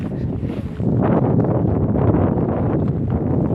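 Strong wind at a kite-flying field, a steady loud rushing and buffeting against the microphone throughout.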